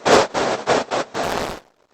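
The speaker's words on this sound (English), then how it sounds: "here is what we call a delayed envelope modulated noise signal" A delayed, envelope-modulated speech-shaped noise signal sounds as five hissing bursts in under two seconds, each rising and falling like syllables of speech, with a longer final burst before silence.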